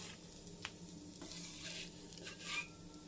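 Aloo paratha frying in oil on a griddle sizzles softly and steadily, with faint scraping and turning sounds from a utensil and a couple of brief clicks; no one talks.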